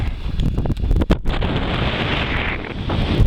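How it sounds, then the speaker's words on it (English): Strong wind on a mountain summit buffets the microphone in a loud, continuous rumbling roar with gusty swells and brief dips. "yeah, it's pretty breezy."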